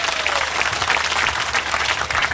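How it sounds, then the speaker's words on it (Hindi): A protest crowd against smart electricity meters claps loudly and steadily, a dense, continuous wash of applause that fills the whole moment with no pauses. "जोरों ताली बजाओ अगले।"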